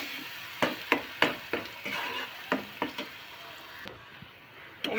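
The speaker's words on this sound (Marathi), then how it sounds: "वाटण चांगलं परतून घ्यायचं तेलात." Masala paste frying in oil while a spoon stirs it, giving a soft constant sizzle punctuated by about eight sharp, close scraping clacks against the pan at an uneven rhythm.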